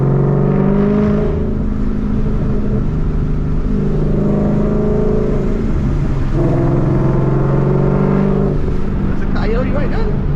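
A 2014 Ford Mustang GT V8 rumbling steadily at low RPM, with a continuous deep engine drone and slight swells of revving throughout, close and loud, as a person talks over it.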